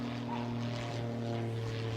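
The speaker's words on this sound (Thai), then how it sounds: "เสียงเครื่องบินเลย" Propeller aircraft passing overhead near an outlet shopping centre close to Los Angeles, a steady droning engine hum with low tonal bands, continuous and moderately loud for the whole stretch.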